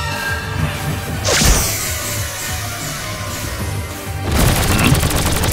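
Rapid gunfire in an animated action scene, with dense bursts of shots, crashes and whooshes that run steadily through the stretch and grow louder and busier toward the end.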